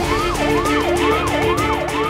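Stuck in heavy traffic, an ambulance blares a loud, near, cycling siren that sweeps up and down about five times over a dense road rumble.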